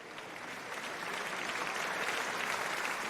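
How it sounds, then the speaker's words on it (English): Warm applause from a crowd at a rodeo-style sheep-riding event, a steady dense wash of clapping that holds for several seconds at moderate distance without voices. "there was a warm applause from the crowd as the kid was taken off"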